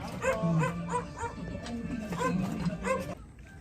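A dog barks repeatedly in a run of sharp, close barks mixed with whimpering yelps, loud and near throughout before stopping at the end.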